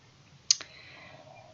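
A single crisp computer mouse click on an online consultation button, close and clear, followed by a faint tail of quiet room tone.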